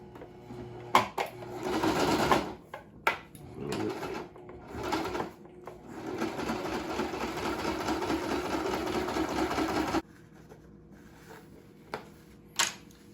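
Sewing machine stitching a test fabric with black top thread and white bobbin thread at stitch setting 8, a steady close mechanical whir running for several seconds between short bursts, then stopping abruptly with a couple of brief clicks after.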